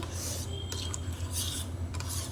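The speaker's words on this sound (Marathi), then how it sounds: "वेलची आणि जायफळची पूड पण टाकूया आणि मिश्रण ढवळून घेऊया" Spoon stirring a milk mixture seasoned with cardamom and nutmeg powder for kharvas, giving soft repeated scraping and rubbing strokes against the pot over a steady low hum, with no talking.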